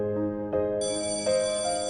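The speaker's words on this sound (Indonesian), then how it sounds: "Bel berbunyi tanda pulang sekolah." A school bell signals the end of the school day with sustained electronic ringing tones that shift pitch in steps. The sound is steady and clear, with no voices.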